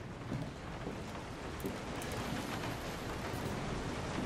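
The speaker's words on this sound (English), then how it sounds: "It is raining like a mother brother." Steady heavy rain in the horror game Resident Evil 7, a dense continuous hiss that stays even and close throughout with no voices.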